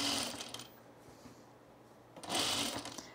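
A sewing machine runs in two short bursts with a quiet pause between them while stitching the hem of a men's shirt along the seam allowance.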